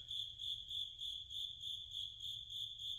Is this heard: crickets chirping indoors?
yes